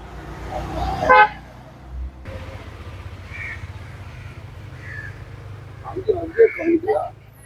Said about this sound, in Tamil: வண்டி அதிகமா ஹார்ன் அடிக்க முடியல